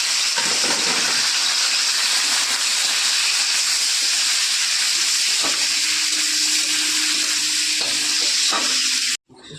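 Prawns hit hot oil seasoned with a black cumin tempering and set off a loud, continuous sizzle with a few soft clinks, ending abruptly.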